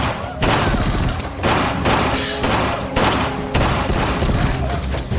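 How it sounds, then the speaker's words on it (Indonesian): A loud, dense barrage of gunfire with heavy thuds and booms, continuous throughout with no pauses, an intense shootout in a parking lot from Prison Break. "Terjadi tembak-tembakan di antara mereka"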